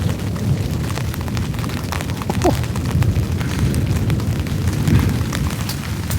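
Serious thunder rolls nearby during a heavy winter storm at a tent campsite, a long low rumble blended with steady rain hiss.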